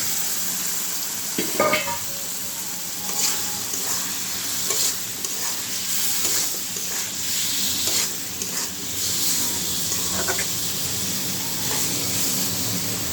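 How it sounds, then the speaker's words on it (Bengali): Potatoes and tomatoes fry in a pan with a steady close sizzle, broken by intermittent scraping and stirring clatters from a utensil; no voices. "আলুটা আমি ভালো করে কষিয়ে তারপরে দিয়ে দেবো"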